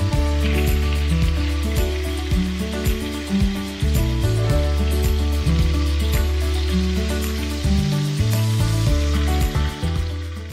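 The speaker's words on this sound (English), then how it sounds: "now this is the kind of sear that you want" Beef short ribs sear in a hot pan for birria tacos, giving a steady loud sizzle with spitting crackles and a few low thumps from the pan throughout, no voices.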